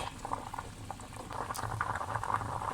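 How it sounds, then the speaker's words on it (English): A potato simmers in a pot of water, giving a steady, close bubbling and gentle popping that continues throughout with no talking. "the potato was boiling for an additional 5 minutes"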